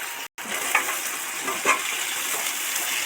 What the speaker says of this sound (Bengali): পেঁয়াজগুলো সব সফট করে ভাজা হয়ে গেছে এবার আলুগুলো সবর মধ্যে দিয়ে দেব